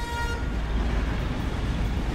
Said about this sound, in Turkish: Evin içinden resmen tren geçiyor.